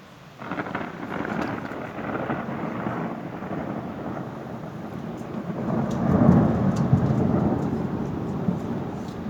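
A strong thunderstorm over Le Mans metropolitan area in June brings heavy rain, a steady wash of downpour with deep rolling thunder that swells and rumbles louder midway, close and sustained throughout.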